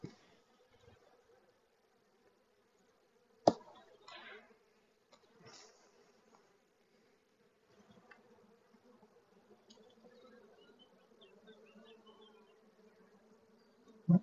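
Honeybees hum steadily at a hive, a close and fairly soft drone that runs throughout, with a few sharp clicks and knocks.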